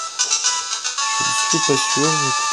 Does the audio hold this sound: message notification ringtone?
yes